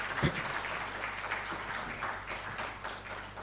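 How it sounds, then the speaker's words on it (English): An audience at a Nigerian climate and conflict summit claps steadily as a speaker returns to his seat. The dense, even applause holds throughout. "Please, let's keep clapping until he gets to his seat."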